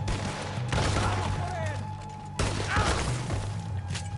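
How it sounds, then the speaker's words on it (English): Two heavy double-barrel shotgun blasts boom in a Red Dead Redemption 2 shootout, spaced well apart over a steady din of background noise and faint voices. "Shotgun is nice. Double barrel."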